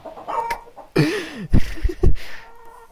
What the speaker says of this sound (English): Why do I hear chickens?